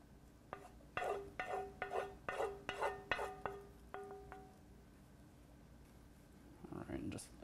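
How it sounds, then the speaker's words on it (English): A spoon scrapes and clinks against a bowl in a quick, uneven series of strokes while a cooled zucchini, onion and garlic mixture is scooped into a pie crust for a quiche, then a softer rustle near the end. "I'm going to spoon this mixture in."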